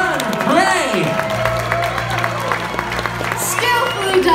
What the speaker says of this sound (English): raise a cheer for Sir William, our master falconer, and for Lady Guinevere